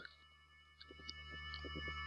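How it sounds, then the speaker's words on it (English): Mints being chewed close to a microphone, a few soft crunching bursts under a steady background hum, with no talking. "If you hear that in the background, those are mints."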